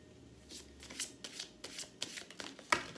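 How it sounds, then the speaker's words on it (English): A deck of tarot cards shuffled by hand in quick riffling bursts, close and fairly quiet, a series of crisp rapid flutters ending in a sharp snap. "Here, I'll do a good hard shuffle."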